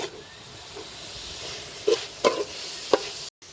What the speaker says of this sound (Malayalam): സവാള വഴണ്ട് വരുന്ന വരെ ഇളക്കി കൊടുക്കാം.